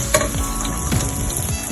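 Onions and diced peppers hit a hot pan already browning ginger and garlic, giving a loud continuous sizzle with a few scraping stirs, near and alone.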